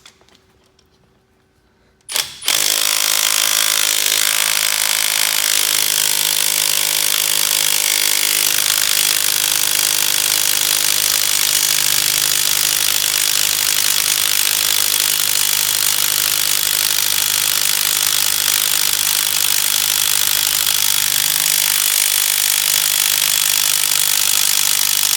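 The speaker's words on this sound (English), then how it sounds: "we're gonna put our impact on this side and we're gonna see if it can break 150 foot-pounds" A cordless impact wrench rattles at full power on a bolt set to 150 foot-pounds, starting after a short quiet moment and then hammering steadily and loudly, close up, for the rest of the stretch with no voices.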